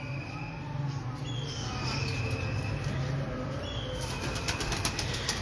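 Pigeons on a rooftop with soft cooing and occasional wing flaps amid a steady outdoor hum and chirping insects, all fairly close and continuous, with brief sharper rustles toward the end.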